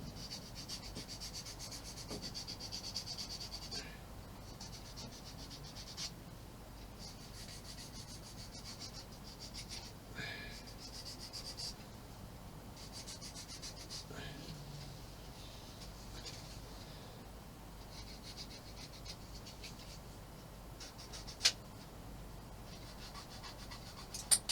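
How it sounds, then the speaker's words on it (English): Small plastic parts of an Emhar tipper truck model kit sanded by hand, a faint, soft, continuous rubbing with occasional light scratches and taps, close but quiet. "And I'll just sand these down."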